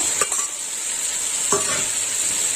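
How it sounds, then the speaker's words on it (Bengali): Vegetable stalks stir-fried in a pan for a vegetarian Bengali chorchori, a steady close sizzle with a couple of spatula scrapes and stirs, no talking. "দিয়ে দেবো ডাঁঠা দিয়ে দিলাম ডাঁঠা"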